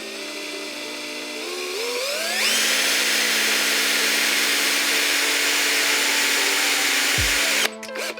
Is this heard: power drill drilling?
yes